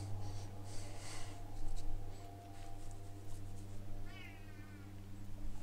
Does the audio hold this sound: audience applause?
no